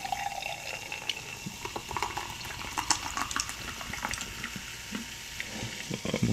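Pineapple coconut carbonated water poured into a cup, a continuous fizzing, bubbling splash with crackling carbonation throughout and no talking.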